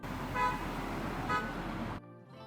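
Two short honking toots from a vehicle horn ring out over steady rumbling traffic noise, then the sound cuts off abruptly.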